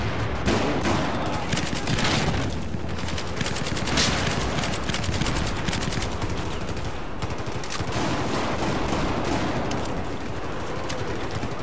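Sustained video game gunfire, a steady, loud stream of overlapping automatic shots and bursts that continues without a break throughout.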